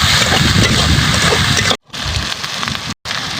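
Onion, ginger and garlic frying in a pan for fish curry, a loud continuous sizzle with crackling spatter, broken by two brief silent cuts.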